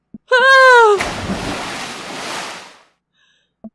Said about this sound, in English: A wall of water rains down on us.